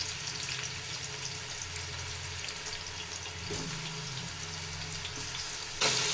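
Onion and tomato fry in a pan for a home-style biryani, giving a steady, close sizzle under faint scraping of a spoon, with a sudden louder hiss near the end.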